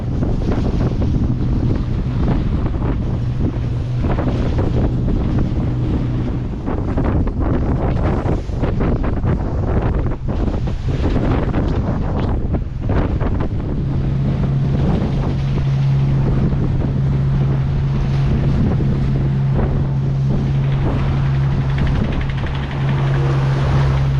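A sailboat motors through short, choppy Mediterranean waves off southern Sardinia, with a constant engine drone, splashing water against the hull and heavy wind buffeting the microphone throughout.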